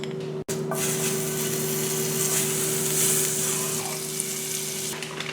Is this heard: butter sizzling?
yes